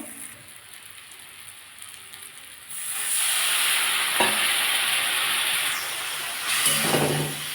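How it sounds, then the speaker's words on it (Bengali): Dry spice masala sautés in a pan for a fish curry with capsicum and onion. A small splash of water hits the hot pan, and the soft background suddenly turns into a loud, sustained sizzle and hiss with faint stirring scrapes. "এটা আমি একটু কষে নেবো আমি একটু সামান্য জল দেবো কারণ আমার মশলাগুলো সব শুকনো"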